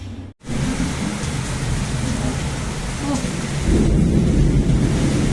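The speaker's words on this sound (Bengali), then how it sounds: "মেঘ ডাকছে" Thunder rumbles low and broad through a rainstorm, a continuous deep roll over the hiss of rain that swells louder toward the end.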